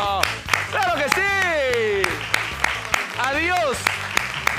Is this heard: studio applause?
yes